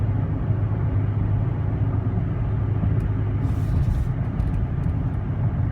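A 2016 GMC Canyon Diesel All Terrain pickup cruises on a highway, heard from inside the cab as a steady low engine and road drone with no one talking.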